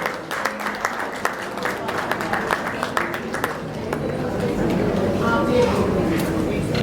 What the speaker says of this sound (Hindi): जोरदार तालियां बजाकर इनका स्वागत करें।